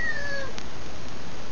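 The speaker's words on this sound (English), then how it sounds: "you can hear my lovely glow cat" A pet cat meows briefly, a short faint call near the start over a quiet room, with no talking.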